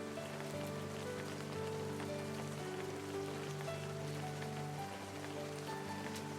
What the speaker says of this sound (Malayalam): ഞങ്ങൾ താഴേക്ക് വരുന്നതിനിടയിൽ തന്നെ അടുത്ത മഴ സ്റ്റാർട്ട് ചെയ്തിട്ടുണ്ട്